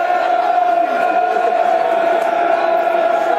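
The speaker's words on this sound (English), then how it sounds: "Crowd trying to get behind their 11." Football crowd at a Millwall versus Bristol City match, a steady roar of massed voices under a sustained tone, loud and continuous with no distinct peaks throughout.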